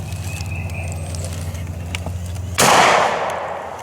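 A single loud gunshot cracks out during an outdoor hunt after a stretch of quiet outdoor ambience. Its report fades away over about a second.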